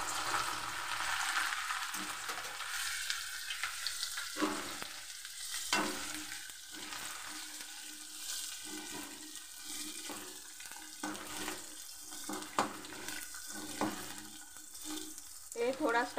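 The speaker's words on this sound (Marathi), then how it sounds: "तेल गरम झालं आहे, डाळ टाकते चण्याची," Chana dal fries in hot oil with a fairly quiet sizzle that swells in intermittent bursts amid brief lulls.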